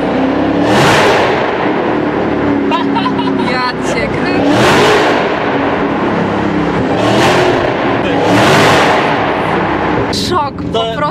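A supercharged 808 hp Dodge Challenger Hellcat Redeye engine revs hard in four loud, rising surges, with a rough roar between bursts, and excited voices can be heard over the engine.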